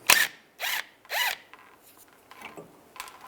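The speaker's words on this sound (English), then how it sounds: "Now I'm going to take the banjo bolt off the brake hose. Use a 11mm socket." A socket wrench works a brake hose banjo bolt on a 2001-2008 Chevy Trailblazer, three short close ratcheting zips in quick succession followed by faint scattered clicks.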